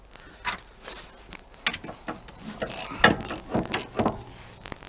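A ratchet clicks away undoing 13 mm bolts on the brakes of a JCB machine, with short bursts of metallic ratcheting and clunks up close, fairly quiet and with no talking.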